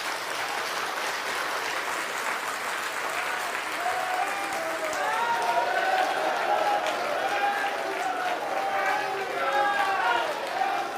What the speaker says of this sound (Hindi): ताली हाथ उठा के बजा तो दो मजी से